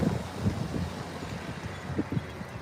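Cold wind blowing outdoors makes a low, steady rumble with soft gusty buffeting across the whole stretch, fairly faint and with no voices over it.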